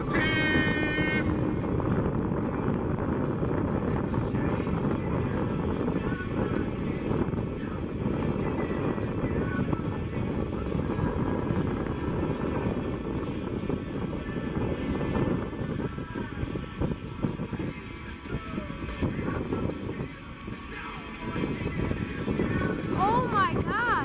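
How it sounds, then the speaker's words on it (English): A C-17 military transport aircraft flies an air show demonstration at Oshkosh, its deep, sustained engine rumble wavering in loudness over a long pass, with wind buffeting and voices over it. "give it up for your C-17 East Coast Demo Team!"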